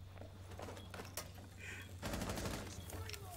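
Bursts of automatic gunfire from a Rainbow Six Siege match, with sharp shots and a denser loud volley in the second half, mixed under excited voice chat.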